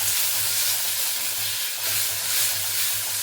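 Chopped tomato and vegetables sizzle in a hot pan, a steady close crackle and hiss with faint stirring and a low background hum, no talking.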